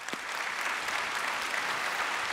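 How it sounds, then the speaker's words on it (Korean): An audience at a forum on jobs in the AI era gives two professors a dense, steady round of applause from many hands throughout the moment. "가이 스탠딩 교수님 그리고 이승윤 교수님께 다시 한번 박수 부탁드립니다."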